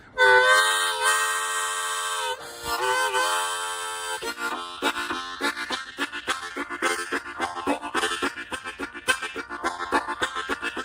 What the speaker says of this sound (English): And then you want that train whistle.